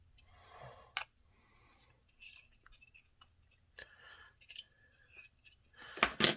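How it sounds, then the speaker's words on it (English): Scissors trim a 3D-printed N scale model house close by, with quiet clicks and cuts spaced irregularly against a near-silent background. "just take the scissors. Give her a trim."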